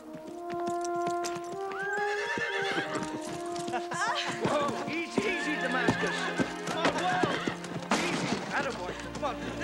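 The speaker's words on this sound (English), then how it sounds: "This is my horse." A horse snorts, whinnies and clip-clops close by in a period outdoor setting, with the neighs rising over steady hoofbeats and people talking throughout.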